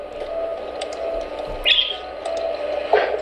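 Birds chirp outside a house in short, scattered calls over a steady background hum, with a couple of brighter tweets standing out at moderate distance.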